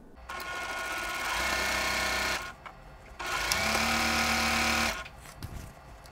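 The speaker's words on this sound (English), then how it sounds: "I've stitched one border onto the side of the quilt" Stitching a border onto a quilt, a sewing machine runs in two sustained bursts of fast whirring with a short pause between, close and clear, then stops.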